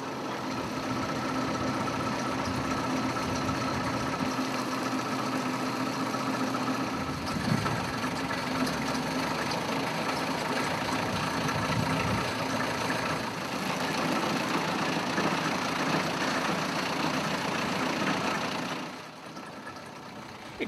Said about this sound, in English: These days, the crane has a diesel engine, but the engine doesn't drive the wheels.